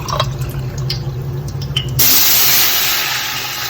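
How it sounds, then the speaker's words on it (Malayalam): Water pours steadily into a pot of rice, a broadband rush that swells sharply partway through and keeps flowing loud and close, after light clinks and trickles at the start. "ഞാൻ വെള്ളം ഒഴിച്ചു."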